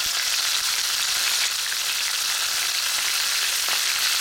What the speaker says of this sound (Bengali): এক দেড় মিনিট এটাকে একটু ফ্রাই হতে দেব।